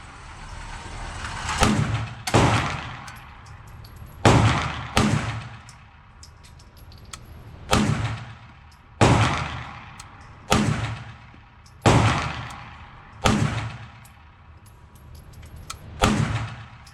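Eight sharp pistol shots from an HK VP9 loaded with 115 grain rounds, fired at a target about seven yards away, spaced unevenly about one to two seconds apart, each loud crack followed by a short decaying echo.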